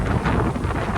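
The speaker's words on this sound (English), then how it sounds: "It is so windy." Strong wind roars and buffets loudly and steadily against the microphone outdoors on a stormy day, with no talk.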